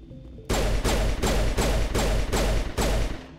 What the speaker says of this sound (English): Don't mind me just shooting my gun in my ship